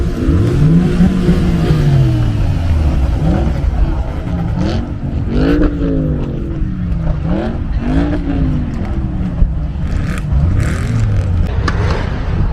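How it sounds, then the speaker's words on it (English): Cars at a Father's Day rev-off car meet, engines revving hard in repeated rising and falling sweeps, loud and close, layered over crowd noise and occasional voices. "So that's the Father's Day rev off to commemorate all fathers that are recently passed or not able to be here."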